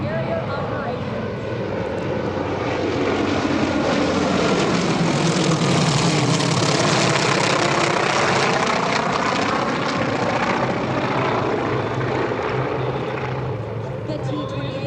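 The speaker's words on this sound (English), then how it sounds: "The T-28 is a piston-engine military trainer used by the United States Air Force and the Navy." A T-28 Trojan piston-engine military trainer passes overhead at an airshow, its propeller drone swelling as it nears, peaking, then easing slightly, loud and continuous throughout.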